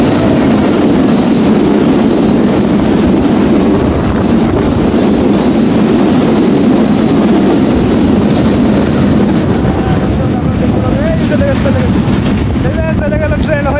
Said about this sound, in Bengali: ট্রেনটা কিন্তু চলে গেল